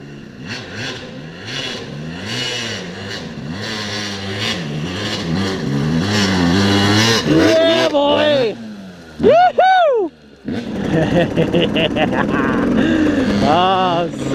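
A dirt bike engine revs hard climbing a steep dirt hill, loud and close, with rising and falling throttle bursts and a sharp high rev near the end, while people talk and shout over it.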